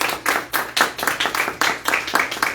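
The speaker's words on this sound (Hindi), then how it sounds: "खड़े होकर जोरदार तालियां यीशु नाम के लिए" A church congregation claps loudly in a fast, regular rhythm, the sharp overlapping hand claps pulsing several times per second, close and energetic.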